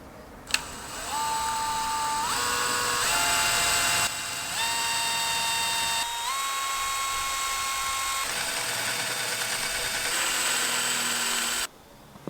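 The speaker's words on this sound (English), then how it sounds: "You need to have a smaller drill bit." A power drill bores into metal, whining steadily with pitch shifts as the bit bites and slows, stopping briefly then resuming, loud and close; the work is part of fitting a seat on a John Deere z915e mower.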